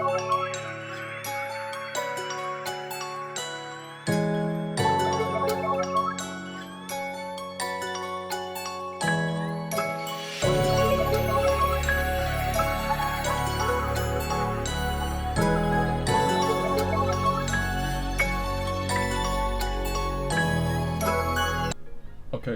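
Bell-like synth tones play a dark, slow melodic loop for a hip-hop beat, notes ringing and decaying over sustained low pads, with a deep bass entering partway through; no voices.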